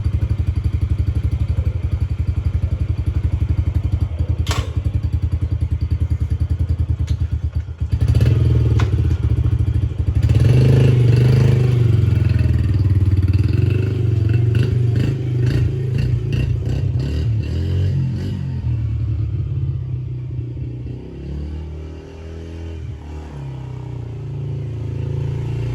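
A Yamaha TT-R50E kids' dirt bike with a freshly cleaned carburetor runs close by as it is ridden between two cars, a steady low engine drone that rises as the throttle opens, with some clattering.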